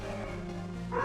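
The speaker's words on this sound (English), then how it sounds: "Sorry about that, the dog got a little wild there." A dog barks a few times nearby in the room, short woofs rising over low background sound, with a louder burst at the end.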